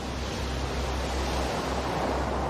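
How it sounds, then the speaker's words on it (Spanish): Hurricane Sandy storm surge waves surge through the streets of Manhattan, a dense, continuous roar of churning water and wind at steady loud volume. "Unas gigantescas olas invadieron las calles de Manhattan."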